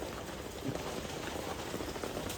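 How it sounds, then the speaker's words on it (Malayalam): Steady rain falling outdoors during a food delivery ride, a dense, even patter that runs continuously with no voices. "മഴ പ്രതീക്ഷിച്ചില്ല."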